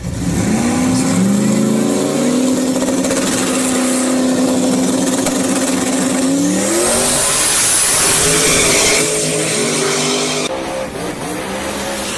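Drag race cars, Mike Corley on the right and Timmy Baker in the left lane in a USA versus Canada second-round pass, roar hard off the line, engine notes climbing steadily as they charge down the strip, loud and sustained with a brief tire squeal.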